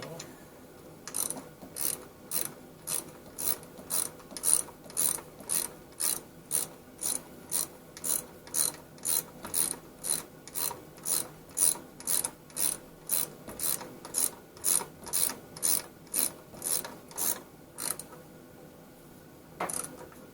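A ratchet snugs up bolts on the engine torque mount of a 2008 Volvo XC90, giving a long run of evenly spaced, crisp clicking strokes, close and fairly loud, ending with a pause and one last click.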